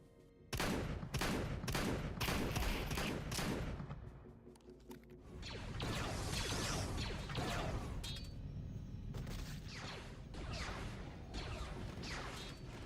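A Golan Arms FC-1 flechette launcher in a video game fires canisters of metal flechettes. The shots come as loud, rapid bursts, then dense sustained blasting and crashing with mechanical clatter.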